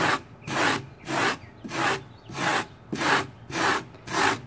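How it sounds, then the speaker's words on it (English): A small piece of wood rubs back and forth over a carved foam utility pole sculpture, making about eight steady, close, raspy strokes in an even rhythm with no talking. "I just use a little trusty piece of wood here"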